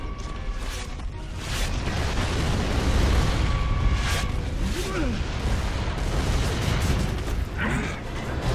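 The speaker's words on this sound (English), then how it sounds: "Mortar!" Mortar shells exploding in the video game Gears of War: Judgment: heavy, rumbling booms swelling into a loud sustained blast over about nine seconds, with battle noise and faint voices mixed in.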